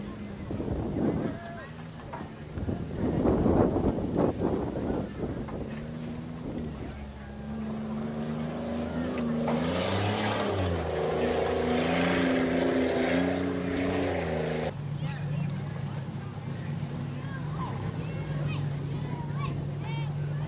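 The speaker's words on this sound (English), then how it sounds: "Looks like we have a few vehicles who want to get an extra lap in." Small Baja race vehicles run laps on an oval track at a county fair. Their engines drone steadily and swell as they pass near, with wind buffeting the microphone and a voice talking over the noise at the start.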